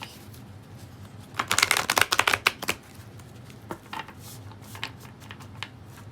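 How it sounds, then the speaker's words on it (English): A tarot and oracle card deck being shuffled up close, a dense burst of riffling flicks followed by scattered lighter card taps, with no speech. "Let's get a card from the energy deck."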